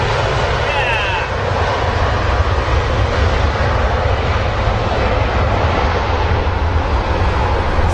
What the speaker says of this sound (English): Those old school engines again, Jerry.